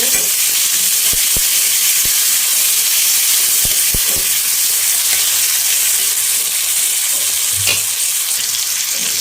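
Onions and tomatoes frying in a pan for an Odia crab curry, a loud steady sizzle and hiss with a few sharp clicks and scrapes of stirring, no voices.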